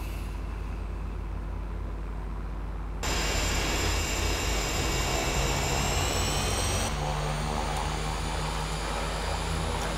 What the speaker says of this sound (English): Cessna Caravan just started up.